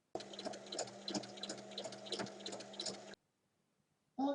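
A sewing machine topstitches a fabric bag with a steady rhythmic whir and needle ticks, close and quiet, for about three seconds before stopping; a brief sound follows after a pause.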